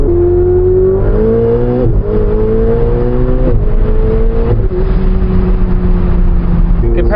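The turbocharged engine of a Ferrari 488 Spider revs loud and close, its pitch climbing and dipping through several rising sweeps, with a voice talking over it.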